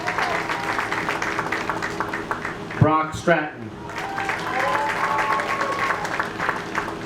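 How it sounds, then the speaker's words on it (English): An audience at a high school athletic awards ceremony applauds the boys varsity golf team, steady clapping filling the room. A voice briefly speaks over it midway. "Let's give a nice round of applause for the 2020 boys varsity golf team."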